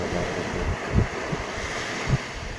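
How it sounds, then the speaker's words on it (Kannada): Big sea waves at Someshwara Beach in Mangalore roll in as a steady broadband surf wash, with a few heavier low thumps of breaking water standing out near and loud in the open evening air. "ಆದರೂ ಅಲೆಗಳು ತುಂಬ ದೊಡ್ಡದಿತ್ತು."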